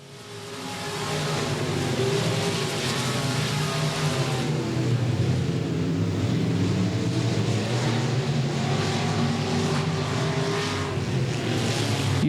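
Race cars circle the oval at Golden Triangle Raceway Park, a steady, loud roar of several engines sustained throughout after a quieter opening second, with layered harmonic drone and no clear voices.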